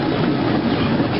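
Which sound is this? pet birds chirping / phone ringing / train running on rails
train running on rails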